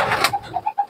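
An old pigeon about eight or nine years of age gives a few short soft coos close by, low rounded notes following a brief rustle.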